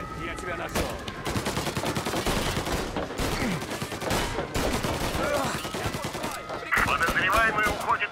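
Rapid bursts of gunfire in Mafia: Definitive Edition during a shootout at the Corleone hotel, with dense overlapping shots and crackling automatic fire that continues loudly for about eight seconds.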